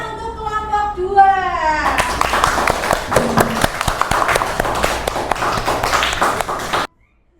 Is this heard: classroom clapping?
yes